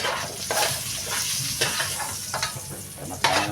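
Stir-frying vegetables in a pan for pochero: a constant loud sizzle with scraping strokes of a utensil roughly every half second to second, close and with no talk.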